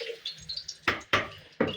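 Water dripping and splashing as sliced raw plantain is drained, a few close, sharp wet splashes in quick succession with soft trickling between.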